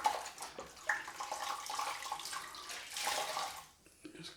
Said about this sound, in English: I'm just rinsing out this cloth.